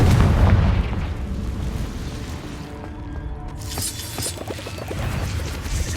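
The Confringo explosive spell in Hogwarts Legacy, a loud booming blast up front that decays into rumbling debris and crackling, followed by further game sound effects.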